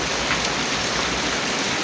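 Rain falls steadily, a dense, even hiss of drops hitting surfaces that stays constant and fairly loud for the whole short stretch, with no voices.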